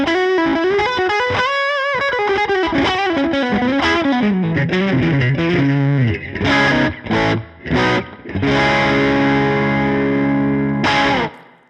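Electric guitar played through an Origin Halcyon Blue overdrive pedal with the gain pushed up, giving loud, sustained distorted chords and riffs, then a few choppy stabs and a final ringing chord, with no talking.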